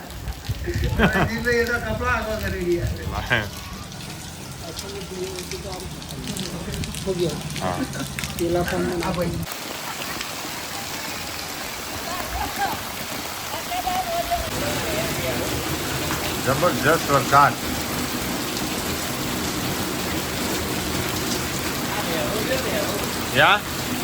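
A downpour of heavy village rain keeps up a constant broadband rush. Voices are heard early on, then the steady rain carries on mostly alone, with a few louder splashy bursts.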